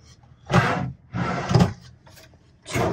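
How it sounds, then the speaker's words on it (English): Drawers in a 2001 Chinook Destiny Class B+ motorhome slide open and shut in three quick, close rumbling strokes, each a short wooden scrape with brief pauses between. "Two sliding drawers."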